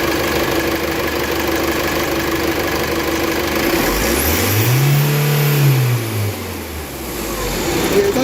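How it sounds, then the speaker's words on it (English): A common-rail diesel engine in a workshop revs up at wide open throttle, its low droning pitch rising and holding high for a couple of seconds before falling back, over a steady loud background roar. "I would like you to hold it on to do a wide open throttle, but hold it for a bit longer when you're wide open and back off"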